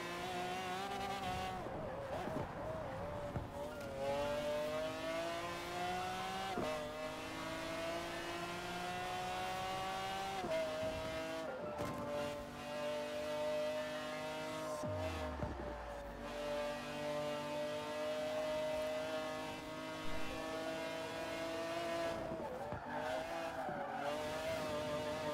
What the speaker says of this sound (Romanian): frumos sună motorul ăsta